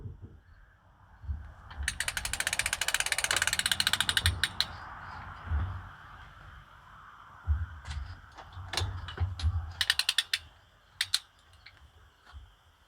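A patio umbrella's crank mechanism being wound up during a repair, with bursts of rapid ratcheting clicks first in a long run and then in shorter spurts, close by with mechanical creaks and knocks between.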